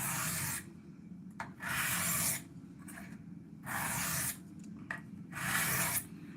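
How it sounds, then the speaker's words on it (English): A straight razor is rubbed in long, coarse strokes across a rough diamond stone to set its bevel. Four loud, separate rasping passes come through close up, with short gaps between them and no talking. "so now I'm going to set the bevel. Just very coarse, very rough with the diamond stone."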